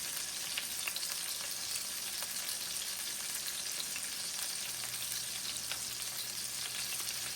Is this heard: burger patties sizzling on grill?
yes